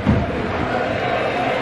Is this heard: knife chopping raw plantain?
no